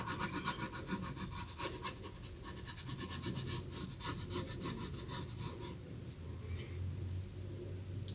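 A paintbrush scrubbed hard back and forth across fabric while painting a corn design, giving a close, steady rasping rub with rhythmic strokes that soften and thin out toward the end.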